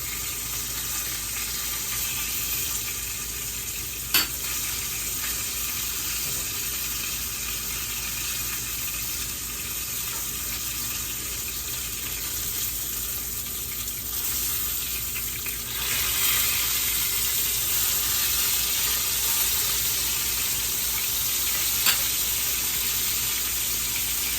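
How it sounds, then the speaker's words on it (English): Lima beans boil in a pot on a kitchen stove, a steady broadband bubbling hiss that runs unbroken with a couple of faint clicks, no voices. "the lima beans are boiling"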